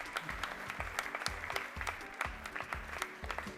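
Audience applause at a school cooking competition, moderately faint and patchy under a thudding, rhythmic low beat that pulses steadily throughout.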